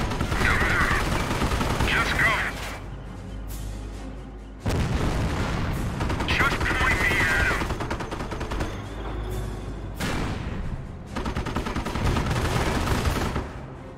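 Gunfire rages through a Company of Heroes World War II battle in Normandy on Hill 192, with loud, dense bursts of rifle and machine-gun fire and booming impacts in repeated waves, under occasional shouted voices.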